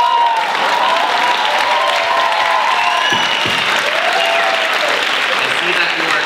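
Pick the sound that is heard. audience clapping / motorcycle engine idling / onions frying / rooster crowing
audience clapping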